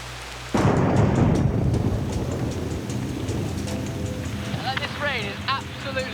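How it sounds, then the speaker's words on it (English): Heavy rain pours on an island, bursting in suddenly as a loud dense roar with a deep rumble of thunder, then settling into a steady downpour while someone speaks over it near the end. "This rain is absolutely unbelievable."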